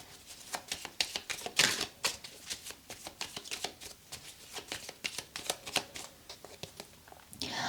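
A deck of tarot cards being shuffled close up, with quick, papery riffles and flicks repeating in an uneven rhythm, soft and alone with no talking.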